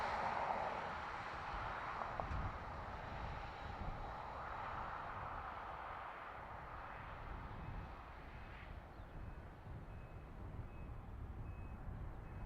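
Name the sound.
British Airways airliner from London City at Dublin Airport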